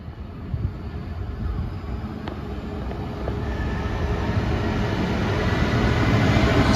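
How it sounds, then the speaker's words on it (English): A freight train running from Trafford Park to London Gateway on the West Coast Main Line rumbles past in a steady, heavy roar that slowly builds in loudness, with faint metallic squeals above the low clatter. "we're going to have a passing freight train from Trafford Park to London Gateway"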